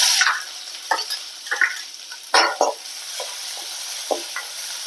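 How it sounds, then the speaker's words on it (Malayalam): Chopped shallots frying in hot oil in a pan for buttermilk curry, a steady close sizzle broken by several short bursts of stirring and spatula scrapes. "ഇനി നമുക്കിതിലേക്ക് അഞ്ചാറ് ചെറിയ ഉള്ളി അരിഞ്ഞത് ഇട്ട് കൊടുക്കുക"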